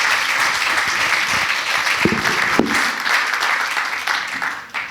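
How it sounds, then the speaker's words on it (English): Audience applause after a demo at a technology demo session, loud and dense clapping from a crowd that holds steady, then begins to taper at the very end. "Please, a huge round of applause to Jesus and his brother."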